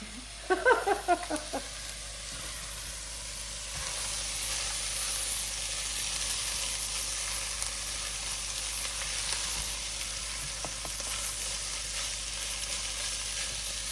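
Leftover chicken sizzles and hisses steadily in a hot frying pan, with a short burst of clinks and scraping from stirring near the start before the frying settles into a constant crackle.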